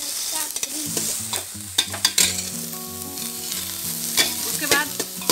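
Vegetables being stir-fried in a pan: carrot, pointed gourd, capsicum, green onion tops, beans, cabbage and cauliflower sizzle steadily while a spoon stirs and scrapes with sharp clinks, close and fairly loud, for a vegetable soup.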